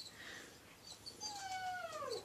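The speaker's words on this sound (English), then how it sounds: "My dog wants in here." A pet dog outside a door whining to be let in, giving a thin high whimper that rises into a longer drawn-out whine near the end, faint against a quiet room hiss.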